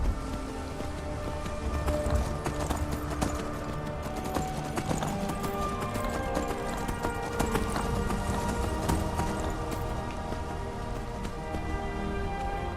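Horse hooves gallop in the video game Skyrim, a dark brown horse in black gear, with a steady rapid clip-clop running throughout alongside dense game ambience, loud and continuous.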